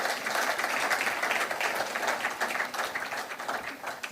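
During a leadership lecture, an audience applauds a former president of Ghana with steady, moderately loud clapping that continues evenly through the whole stretch.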